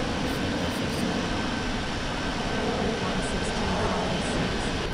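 An airliner in the flight game Infinite Flight roars through its takeoff run, a dense steady engine drone that stays loud and unbroken throughout.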